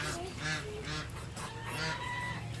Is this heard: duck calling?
yes